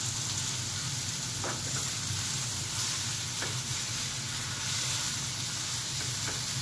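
Bison meat fries in a pan with a steady, close hissing sizzle and occasional soft crackles throughout, no voices over it.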